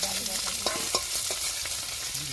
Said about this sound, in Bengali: পকোড়া ভাজছো?